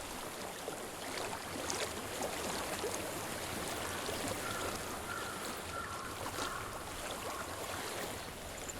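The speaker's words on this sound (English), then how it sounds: "I hear water." Flowing water in the video game Hellblade: Senua's Sacrifice, a steady broadband rush of a stream that stays even and moderately loud with no talk.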